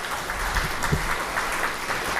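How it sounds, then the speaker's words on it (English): Steady applause from an audience at a film screening, a dense wash of clapping that holds at an even level for a couple of seconds. "give them a round of applause for their bravery in speaking out on this"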